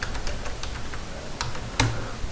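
Fingers type on a computer keyboard, entering a Google search: a quick run of light, close key clicks with a few short pauses and a firmer final keystroke near the end.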